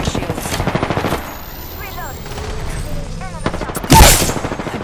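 Automatic weapon fire in the game Apex Legends, a rapid close burst of evenly spaced shots for about a second, quieter scattered action afterward, then a loud sharp blast near the end, with a voice speaking.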